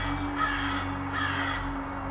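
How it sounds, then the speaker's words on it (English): A crow caws twice in quick succession, loud and close, over a low steady background hum with no talking. "Oh, here's something we don't see very often. It's a crow."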